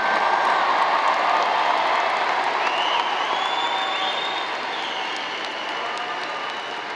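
Sustained applause from a large audience at a 2023 high school graduation ceremony for Plano East Senior High School, a steady dense wash of clapping that fades slightly toward the end, with faint crowd murmur and no clear talk.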